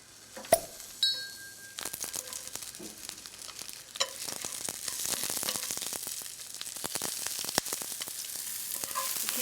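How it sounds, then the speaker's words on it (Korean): Green onion and garlic sizzle as they stir-fry in a frying pan, a steady hiss building up under scattered clinks of a utensil against the pan, close by with no talking. "모든 볶음 요리에 있어서는 먼저 파랑 마늘을 먼저 볶아주거든요"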